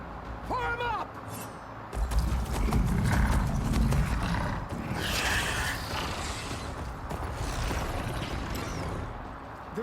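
Riders on galloping machine mounts in the Horizon Forbidden West video game, a loud rush of pounding hooves and metallic creaks with mechanical whinnies, shouting voices and battle noise mixed in.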